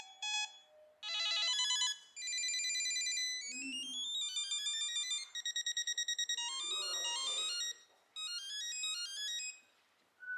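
Samsung Galaxy SmartTag ringtones play one after another, bright electronic melodies of rising and falling beeping tones in short bursts with brief gaps, close and loud, no voices.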